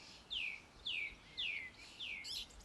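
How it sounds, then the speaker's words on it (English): Birdsong in a forest: four clear, descending whistled chirps at an even, unhurried pace, fairly faint and alone over a soft hiss. "The whole forest became alive with birdsong."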